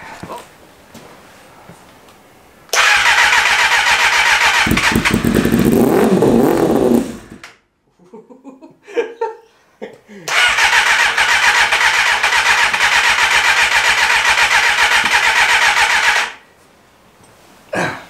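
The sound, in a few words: Kawasaki ZXR250 motorcycle engine starting and running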